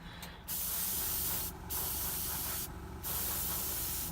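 Three long hissing bursts of spray varnish coat a painted Red Cap miniature, separated by short pauses, with a faint brief spurt just before the first burst.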